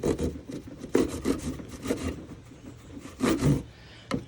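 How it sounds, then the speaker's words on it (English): A drywall knife saws across the top of a drywall panel in a bedroom closet remodel, giving short rough rasping strokes in an uneven rhythm, close and fairly quiet. "All I'm taking is a drywall knife, and I'm just cutting across the top."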